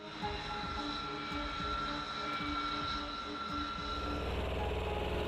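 A B-2 stealth bomber flies overhead with a steady, loud engine roar and a sustained whine, and the low rumble swells toward the end.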